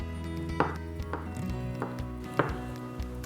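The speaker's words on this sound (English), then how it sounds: "So let's go ahead and cut up our meats." A knife chops meat into bite-sized pieces on a cutting board outdoors, several sharp, separate thunks at an uneven pace against a low steady background hum.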